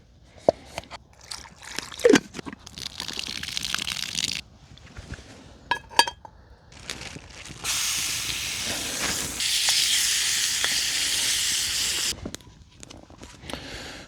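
Water poured into a hot pan sizzles at an outdoor bushcraft camp, a loud steady hiss building after scattered clinks and taps and holding for several seconds before cutting off.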